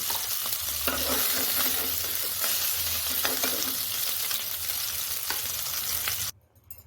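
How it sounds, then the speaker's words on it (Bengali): Katla fish pieces fry in oil, a loud, dense sizzle with crackling and occasional stirring, continuing steadily before cutting off abruptly near the end; no talking. "ঝোলের মাছ একটু লাল লাল করে ভেজে নেব আমি মাছগুলো ফ্রাই হয়ে গেছে"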